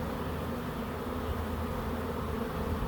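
Thick, constant buzzing comes from a honeybee swarm up close while the bees are grabbed by hand at a backyard swarm trap. The hum holds a steady level the whole time, and no voices are heard.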